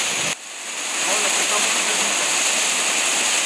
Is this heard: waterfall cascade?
yes